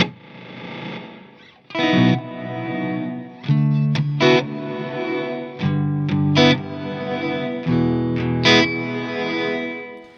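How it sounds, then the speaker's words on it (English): Synth or guitar chords processed through a reverse reverb stacked with a heavily modulated reverb, each note swelling up into a sharp attack followed by a wide, warbling wash that fills the gaps between chords, loud and alone. "And the second one is a reverse reverb."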